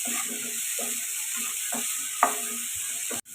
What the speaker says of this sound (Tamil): இந்த வெங்காயம் தக்காளி வதங்குற அளவுக்கு உப்பு சேர்த்துட்டு திரும்பவும் நல்லா வதக்கிக்கலாம்